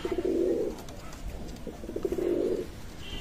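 A running pair of pigeons coos close by in soft, repeated rolling calls, with two longer coo bursts and quieter murmuring between them.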